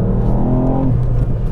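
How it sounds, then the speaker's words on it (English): A 2018 Ford Fiesta ST with a small three-cylinder engine pulls hard under acceleration, a loud, close, continuous rising engine drone heard from inside the car, alone and without talk. "it's a strong engine."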